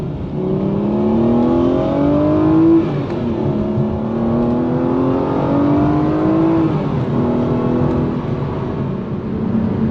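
An Aston Martin DBX SUV's engine drones loud and steady from inside the cabin, its pitch climbing through gears in repeated rising sweeps for ten seconds with no talking.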